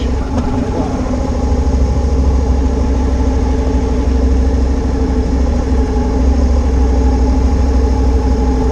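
A motorcycle creeps along slowly on the clutch during rider training, its engine holding a loud, steady low drone close by with little change in pitch.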